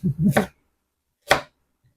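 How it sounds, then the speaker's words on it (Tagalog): A knife chops carrots on a board in two crisp, close thuds, with a quiet pause between them and no talk. "Ito naman po, carrots naman po ang aking hihiwain."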